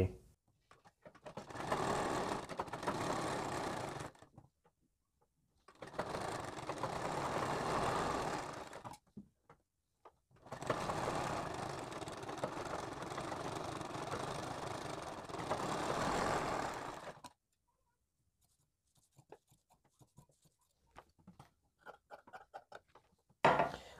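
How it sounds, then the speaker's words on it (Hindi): A sewing machine stitches around a blouse neckline in several loud, steady runs of a few seconds each, separated by short silent pauses, followed by faint handling noises. "आपको यहाँ पर शेप के हिसाब से पूरे गले में सिलाई लगानी है"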